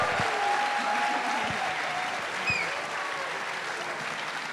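An audience applauds steadily with a continuous roar of clapping at an event for a film discussion. A couple of whoops are heard, and the applause eases slightly toward the end.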